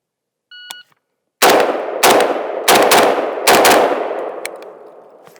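A Galil Ace rifle fires four rapid shots at targets after a short timer beep, each blast loud and close with a ringing decay, spaced roughly two-thirds of a second apart.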